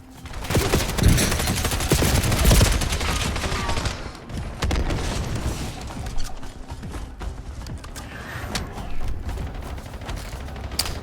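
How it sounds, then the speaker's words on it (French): Submachine gun fire in the video game Black Ops 7, loud dense bursts of shots and mechanical clatter that ease after a few seconds into scattered game effects. "Elle a rafale cette mitraillette?"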